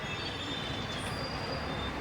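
A train at Panvel railway station in Mumbai gives a steady, close rail rumble with a faint high wheel squeal running throughout. No voices are heard.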